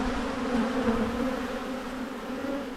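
Honey bees hum in a steady, close drone around an opened hive being split into five-frame boxes, a continuous buzz of many wings with no pauses.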